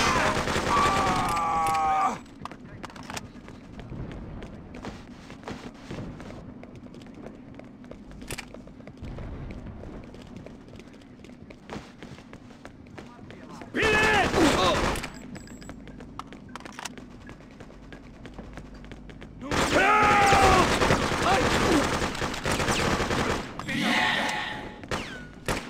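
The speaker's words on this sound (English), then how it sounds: "We're taking fire." Gunfire in the video game Freedom Fighters comes in loud bursts of automatic fire separated by quieter stretches of scattered shots, thuds and footsteps, with a few voices heard among the combat noise.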